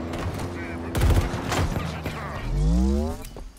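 Gunfire in Halo Infinite co-op campaign combat, with loud bursts of shots mixed with game effects and a voice talking.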